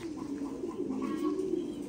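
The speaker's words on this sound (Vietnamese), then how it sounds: "Đây là những cặp chim bồ câu bố mẹ, dòng chim bồ câu Titan Thái siêu thịt" Thai Titan meat pigeons on a breeding farm cooing steadily and close by, a low continuous murmur of overlapping coos with no talk.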